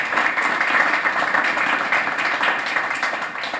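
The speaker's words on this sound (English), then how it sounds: "clap for yourselves" Administrative staff clap at a school ribbon-cutting ceremony, a dense, steady wash of many hands heard from the room, even in loudness for several seconds with no voice over it.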